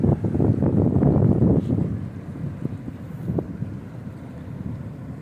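Speedboat on the Padma river, a loud close rush of engine and wind noise that is strongest at the start and then eases to a steadier rumble.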